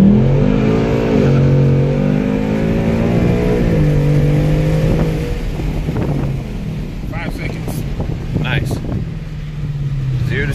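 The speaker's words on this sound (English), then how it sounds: "2018 Mustang GT with a bunch of cool stuff on it." A 2018 Ford Mustang GT fitted with aftermarket parts accelerates hard during a timed test-drive run, its engine note climbing steadily before easing off, with wind noise and some voices later on.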